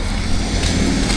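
A car passing on a road in traffic, a steady close roar of engine and tyre noise filling the whole moment, loud and without any talking.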